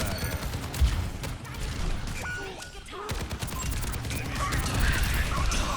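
Soldier 76 firing his rifle in Overwatch 2: dense, rapid bursts of gunfire in a busy match mix, with clicks and game effects layered under a voice talking.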